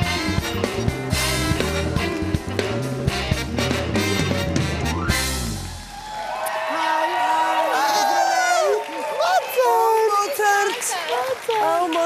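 A studio audience at a Bulgarian TV show applauds and cheers, with music playing at first and then loud whoops and whistles over a steady wash of clapping.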